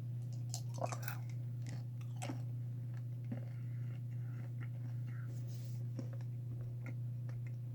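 Someone chews Avalanche mint chewing gum close to the microphone, with soft, wet, irregular chewing clicks over a steady low hum.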